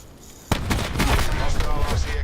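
Shotgun gunfire from the SG12 in Call of Duty: Black Ops 4, a sudden loud blast followed by a dense, rumbling barrage of shots and explosions, with a voice talking over it.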